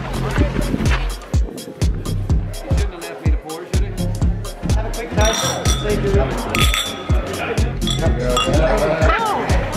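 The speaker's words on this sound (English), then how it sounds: "We've had a lot of wine clinking going on." Wine glasses clinking repeatedly during a Yarra Valley winery tour in Australia, bright taps recurring through the clip beneath steady conversation and background chatter.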